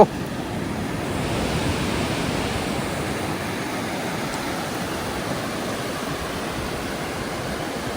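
Steady roaring surf mixed with strong gusting wind buffeting the microphone, continuous with no voices.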